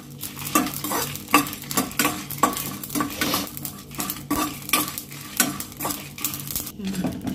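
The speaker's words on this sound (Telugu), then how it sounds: "సోంపు, మిరియాలు, చెక్క, లవంగ, ఎండుమిర్చి వేసి ఫ్రై చేసుకోవాలి." Fennel, pepper, cinnamon, cloves and dry red chillies frying in a pan, a steady sizzle under repeated close scraping strokes of a spoon, even and continuous with no talk.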